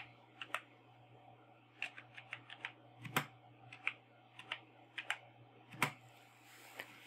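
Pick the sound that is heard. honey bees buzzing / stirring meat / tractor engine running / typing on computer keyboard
typing on computer keyboard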